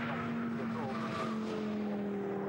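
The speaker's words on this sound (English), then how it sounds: "locks everything up in the Nissan, carries straight on at Russell" A Nissan race car engine roars steadily as its brakes lock and tires skid straight on across the track at Snetterton, with a faint voice underneath.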